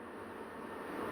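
A small CD motor powered from 12 volts spins fast, giving a steady, noisy whir with a faint high whine, continuous and close.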